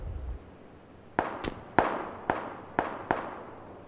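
Six sharp gunshots crack out of a PUBG squad match, spaced roughly half a second apart, each a loud snap with a short decaying tail over a quiet background.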